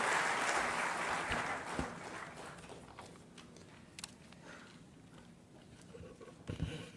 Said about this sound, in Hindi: आप सभी जोरदार तालियों के माध्यम से माननीय का स्वागत करें।